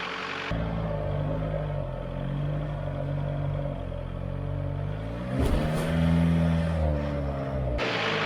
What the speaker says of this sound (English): the belt squeaking that you hear, I found out a few weeks after this trip, was a cracked idler pulley tensioner